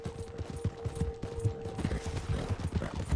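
Horse hooves clip-clop at a steady, brisk rhythm during a winter endurance race in Red Dead Redemption 2, close and continuous under a faint game ambience.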